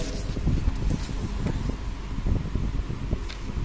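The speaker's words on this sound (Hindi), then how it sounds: "बहुत ज़्यादा हवा चल रही है, मैं रुकिए फैन ऑफ करके तब अगली वीडियो में भेजता हूँ" Strong airflow from an electric fan buffets the microphone, a steady low rumble with gusty bursts and rustling crackle that persists throughout, loud and close with no speech.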